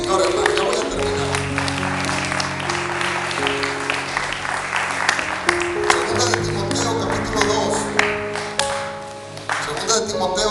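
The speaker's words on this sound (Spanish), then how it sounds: "Dale un aplauso fuerte al Señor, hermano." A church congregation claps loudly for the Lord during a Christian sermon, a dense, sustained roll of clapping over sustained musical tones with voices mixed in throughout.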